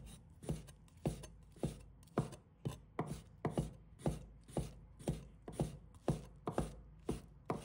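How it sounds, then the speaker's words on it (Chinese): A knife chops soaked shiitake mushrooms into strips on a board, sounding as steady, evenly spaced close taps, about two per second, with nothing else heard. "把香菇切成丝。"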